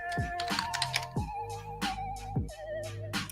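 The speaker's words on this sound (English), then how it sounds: "why the heck is this dude doing a typing test? Somebody heard me typing before" Rapid bursts of typing on a computer keyboard during a typing test, crisp close key clicks in quick uneven runs separated by short pauses, with no voices.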